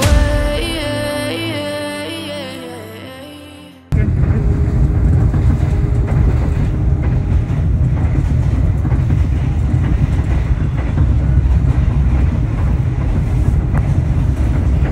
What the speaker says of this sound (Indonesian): Sesaat lagi perjalanan kereta api Dharma Wangsa akan tiba di kota Semarang.